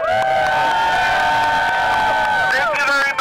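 Rally crowd cheering and applauding in support of El Super grocery workers, loud and sustained with whoops and shouts filling the space, voices rising over the dense noise near the end.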